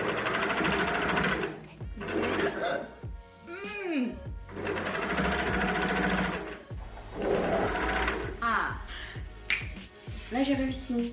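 A domestic sewing machine stitches two tops in loud, rapid whirring bursts separated by short pauses, close up, with small clicks and handling noises between runs.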